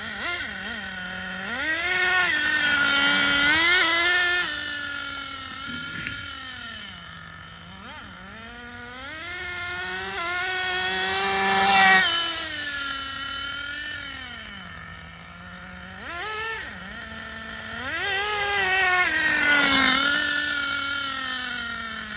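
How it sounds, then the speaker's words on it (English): A Schumacher Menace RC car's tires spin and whine in rising and falling pitched sweeps, loud and close, with the motor note climbing and dropping in three long bursts. "I think the tires are spinning."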